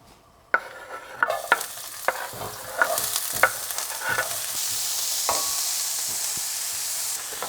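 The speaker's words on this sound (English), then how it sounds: "we are going to use the same pan to saute our onion" Onion sautés in a pan with a bright, steady sizzle that swells toward the end, punctuated early by several sharp scrapes and taps of a spatula stirring.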